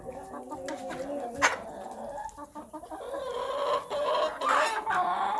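Several chickens cluck and murmur nearby, with short rising squawks and rustling, no talking.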